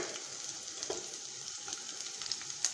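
Chopped onion hisses gently in hot oil already crackling with mustard seeds and urad dal for a mushroom curry, a soft steady sizzle with a few faint stirring taps.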